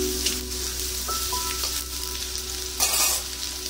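Chilli powder and turmeric frying with tomato in a pan, a steady close sizzle with stirring and a brief louder burst near the end, with faint tonal hums in the background.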